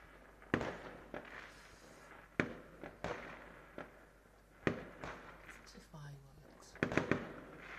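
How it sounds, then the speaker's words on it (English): Fireworks go off outside at night as a series of sharp, distant-sounding bangs and pops at irregular intervals over a quiet background. "Fireworks."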